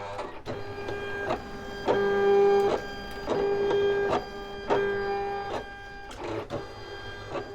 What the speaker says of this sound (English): and then it will start cutting